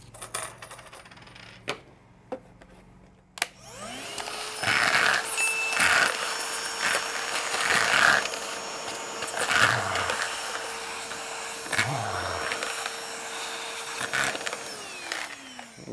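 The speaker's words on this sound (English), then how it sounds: "you can measure a vacuum by how well it will suck up a quarter" A STIHL SEA 20 battery vacuum whirs steadily for most of the clip, with a few sharp metallic clinks and rattles as a quarter is sucked up, after some handling clicks at the start.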